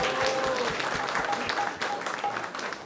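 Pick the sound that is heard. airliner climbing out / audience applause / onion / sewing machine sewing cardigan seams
audience applause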